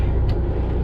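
Steady low rumble of a 10-speed truck engine running loaded, droning evenly through a short stretch with no gear change distinctly marked.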